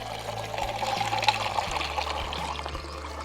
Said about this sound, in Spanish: tenemos media taza con agua en un segundo